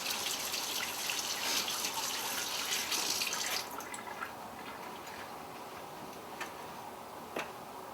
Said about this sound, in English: let me wash my hands here real quick